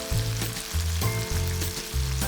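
Diced onion sizzling loudly in a hot pan, a continuous bright frying hiss with a low background hum that comes and goes.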